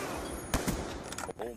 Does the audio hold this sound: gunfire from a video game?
yes